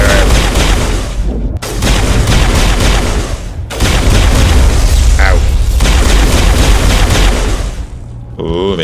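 Heavy, continuous gunfire and booming blasts from a Mass Effect firefight fill the scene loudly and densely, with brief pauses between sustained volleys and a voice speaking faintly underneath.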